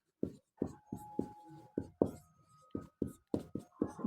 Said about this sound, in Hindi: तो यहाँ लिख लेते हैं तीसरा कोण